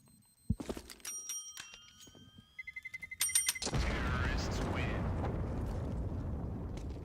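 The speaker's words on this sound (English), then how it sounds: "I didn't say you could press the bell." A bell pressed during a commentated Counter-Strike match on the Cache map, with a few sharp metallic dings and a quick run of rapid rings, followed by a loud rumbling crowd or game burst.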